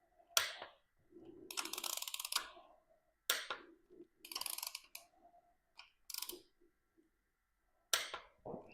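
A hand ratchet tightens bolts on a Slant 6 engine, clicking in quick runs of pawl ticks separated by pauses, close and clear.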